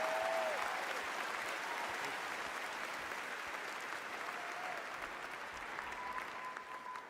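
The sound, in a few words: audience applause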